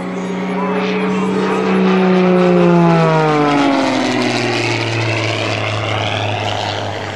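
Propeller airplane engine at an airshow during an aerobatic corkscrew roll, a loud droning roar whose pitch sweeps down as the aircraft passes and rolls, with someone talking over it.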